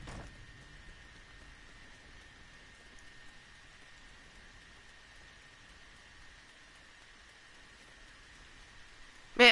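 Steady rain falls in a video game scene, a soft continuous hiss of drops at moderate level with no other sounds until a brief louder burst at the very end.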